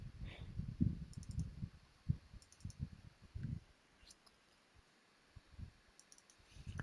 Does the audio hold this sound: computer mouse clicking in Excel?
yes